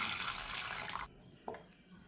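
Boiled chickpeas being rinsed under running water in a kitchen, a strong rush of water that cuts off abruptly halfway, followed by a few faint splashes and clinks.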